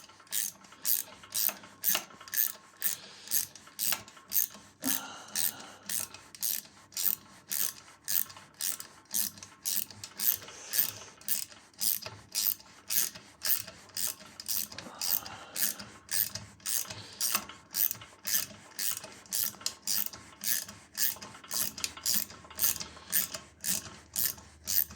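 A ratchet wrench fitted with a 12 mm socket tightens a fastener on an engine, giving a steady run of rapid, evenly spaced mechanical clicks that continues without pause and with no voices.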